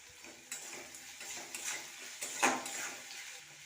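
Chopped tomatoes go into a pan over softly fried onions and sizzle while a utensil stirs and scrapes them, bringing steady frying hiss with intermittent clinks and knocks against the pan. Close, moderately quiet, with no voices.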